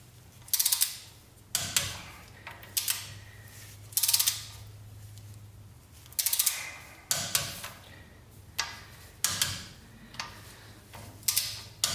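Torque wrench ratchet clicking while tightening the manual locking hub bolts on a Toyota 4Runner, set to 10 foot-pounds; repeated bursts of sharp, close ratcheting clicks with short pauses between bolts, and no talk.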